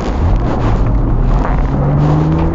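A BMW Z4 E85 engine pulls hard under heavy throttle through a corner, a loud continuous drone with a rising tone, heard from close by.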